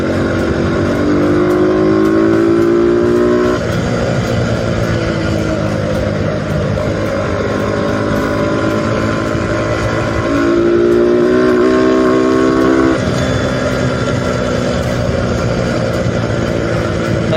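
A motorcycle with a ported and polished cylinder head revs hard to high RPM in two long climbing pulls, each dropping back between. The engine is loud and close throughout, with no talk.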